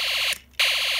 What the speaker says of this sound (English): machine gun sound.